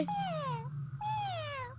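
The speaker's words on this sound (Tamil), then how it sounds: "ஹே, நீ பூனைக்குட்டி தானே?" A cartoon kitten gives two clear meows in quick succession, close and distinct, over a low background hum.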